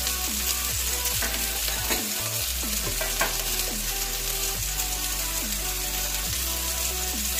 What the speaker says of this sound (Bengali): দিয়ে ভালো করে মশলাটা ভেজে নিচ্ছে।